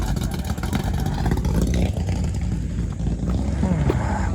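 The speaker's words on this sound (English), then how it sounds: "You hear that little truck?" A small truck engine revs with a nice cam at a dragway car show, a loud, continuous rumbling roar that fills the whole stretch without pause.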